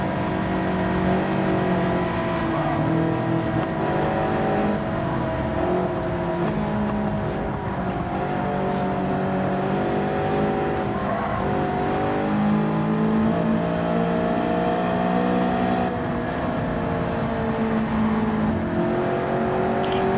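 A Bugatti Veyron engine in Gran Turismo 7 drones steadily and loudly for the whole stretch, its pitch rising and settling in smooth harmonic sweeps as the car accelerates, with no talk over it.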